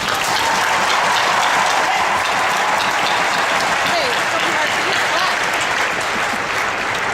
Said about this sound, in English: You need to give yourselves a big round of applause.